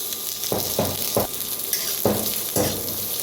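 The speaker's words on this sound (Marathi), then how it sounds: "साईडला फटाकडे उडत आहे त्याचा आवाज यायला लागला असेल तुम्हाला" Half an onion roasting in a little oil on a village wood-fired stove, sizzling and crackling loudly and steadily, with several sharp popping bursts spaced across the sound, close up and without talk.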